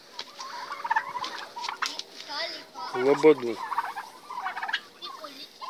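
Turkeys gobble and chatter near a hanging bunch of orache, with soft pecking and rustling as they feed, and a person speaks briefly.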